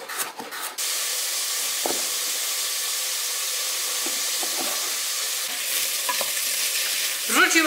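Chopped onion and carrot sizzling in clarified butter in a frying pan, a loud steady hiss with occasional stirring scrapes and clicks.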